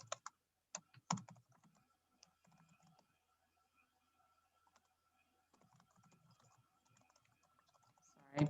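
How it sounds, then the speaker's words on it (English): Typing on a computer keyboard during a virtual session: faint, irregular bursts of key clicks with a few louder taps at the start and end, quiet and close-miked, with low background murmur. "Sorry, just typing away."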